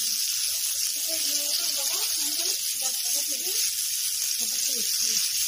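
Chicken pieces fry in a pan with a steady broad hiss of sizzling oil throughout, while a voice talks quietly underneath.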